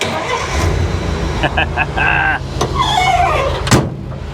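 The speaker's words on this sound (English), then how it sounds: "Let me fire this up." A 1953 Pontiac Chieftain straight-8 is started, a starter whir and catch from close by, preceded by clicks and a door-like thump, with someone speaking around it.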